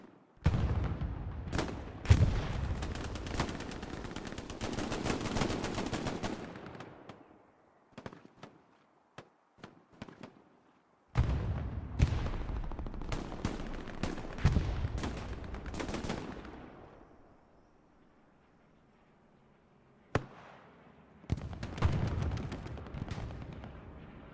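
Gunfire in the video game Hell Let Loose, including a grease gun submachine gun, comes in loud, dense bursts of rapid shots and heavy blasts separated by quieter gaps, with no talk.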